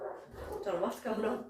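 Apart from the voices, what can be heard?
dog barking and whimpering in the background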